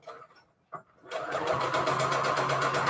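A domestic sewing machine runs a short back stitch on fabric for a quilted junk journal cover. A couple of soft handling clicks come first, then a steady, close, rapid mechanical whir with an even needle rhythm.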